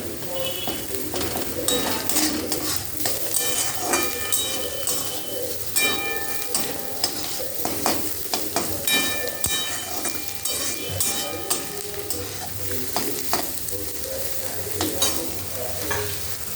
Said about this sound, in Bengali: একটু ধনে গুঁড়ো দিলাম, একটু গোলমরিচ দিলাম, দিয়ে একটু নেড়ে নিই